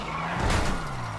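Car tires squeal briefly in GTA V Online on PC, a short rough screech rising over a steady engine drone and then fading.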